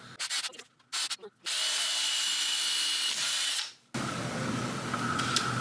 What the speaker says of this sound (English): I guess that's what happens when you drill through concrete.